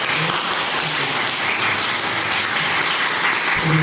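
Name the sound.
congregation applause welcoming newcomers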